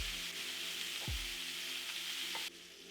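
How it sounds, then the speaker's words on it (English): Steak sears in a smoking-hot cast iron pan with a steady, close, crackling sizzle, and two soft low thumps land partway through. "You want to hear that beautiful sear."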